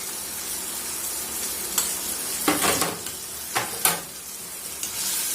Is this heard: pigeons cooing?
no